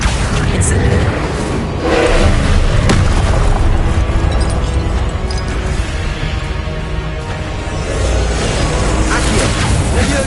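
Spell blasts such as Incendio and Confringo go off in the Hogwarts Legacy video game: dense, loud booms and crackling bursts that pile up continuously, with one sharper bang partway through.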